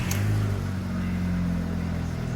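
Skoda Fabia engine just after a power steering pump replacement, heard as a steady low idle hum running close and even throughout, with no clear cranking burst.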